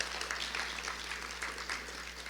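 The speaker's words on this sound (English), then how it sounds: "Another round of applause for them, please." Audience applause for speakers at a mountain symposium, a brief burst of even clapping from a modest crowd indoors over a low steady hum.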